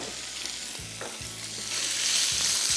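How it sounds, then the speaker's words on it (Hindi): Chicken mince fries in oil over high heat with a close, dense hiss and crackle that grows a little louder toward the end. "तेज़ आंच पे इसको करेंगे पहले फ्राई।"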